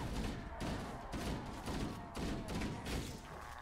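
Grenade explosions and gunfire in the Halo video game, a rapid series of loud bursts and thuds pulsing roughly every half second, close and dense, with no clear talk.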